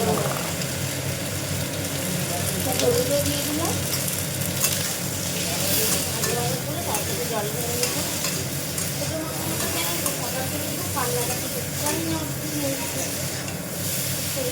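Green chillies sizzle and fry in hot oil in a pan on a home stove, a steady dense crackle running for the whole stretch with stirring scrapes and faint talk in the background.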